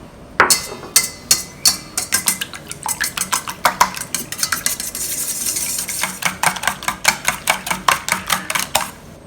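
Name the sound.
mixing seven eggs with salt in a bowl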